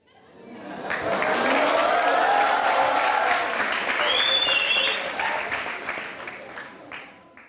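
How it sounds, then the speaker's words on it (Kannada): A studio audience on a televised courtroom-style interview show bursts into applause that swells quickly, holds as dense clapping, then tapers away, with a few voices and cheers mixed in. "ಇವರೆಲ್ಲರೂ ನಿಮ್ಮ ಮಾತಿಗೆ ಚಪ್ಪಾಳೆ ಹೊಡೆದ್ರು."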